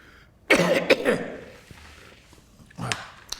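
Someone coughs hard in a cluster of harsh bursts, then coughs again briefly after a short pause, close to the listener.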